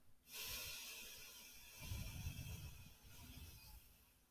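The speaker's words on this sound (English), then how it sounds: "and exhale for 4 seconds." A slow exhale during a breathing exercise, a soft airy breath heard close up and gently tapering over about four seconds, quiet and alone.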